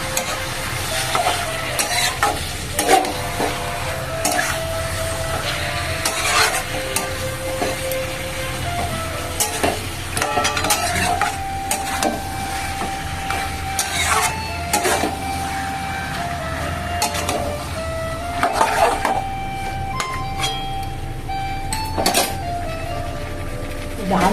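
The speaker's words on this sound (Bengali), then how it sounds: "আলুটা কষে নিই" Potatoes already fried with turmeric and salt are sautéed in a pan for a chicken curry, giving a steady sizzle with a spatula scraping and clanking at intervals. A voice speaks over it in places.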